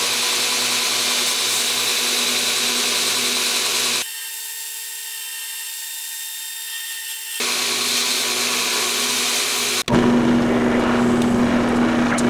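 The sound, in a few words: drill press drilling through a knife handle scale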